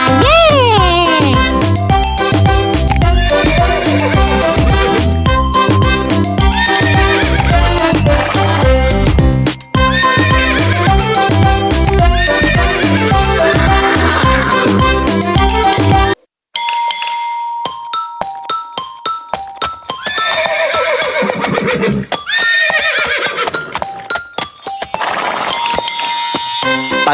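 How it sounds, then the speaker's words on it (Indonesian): Horse neighing and hoof clip-clops set within a loud children's song about a horse-drawn cart, with busy music throughout, a sudden brief drop partway, then lighter tinkling backing with repeated clopping and whinny-like calls. "Tik tak tik tik tak tik tak tik tak tik suara sepatu kuda"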